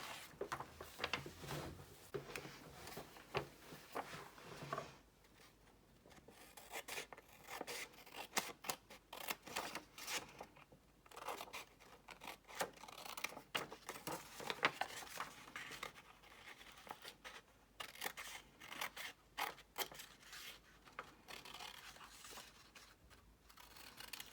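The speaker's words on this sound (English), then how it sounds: "And I'm going to cut that with a scissor." Scissors cut through paper while tracing around a tea-bag card template, making quiet, irregular snips and rustles close by, with no talking.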